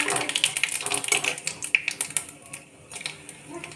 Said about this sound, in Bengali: এবার ফোড়ন দিচ্ছি। ফোড়নে দিচ্ছি তেজপাতা, শুকনো লঙ্কা,